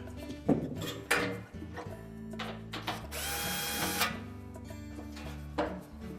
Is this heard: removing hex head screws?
yes